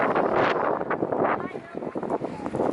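High winds buffeting a campsite at Gaviota State Park, a loud continuous roaring gust noise battering the microphone with uneven surges, with people talking over it.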